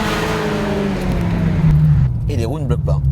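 Ferrari F355 GTS engine and tyres under hard braking with ABS engaged, the loud engine note falling steadily as the car slows, with voices talking over it near the end.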